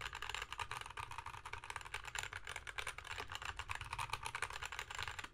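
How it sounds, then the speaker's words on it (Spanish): Fast, steady clacking of a custom CU65 mechanical keyboard being typed on, close and continuous with dense overlapping keystrokes. "ya veis que el teclado suena muy muy bien"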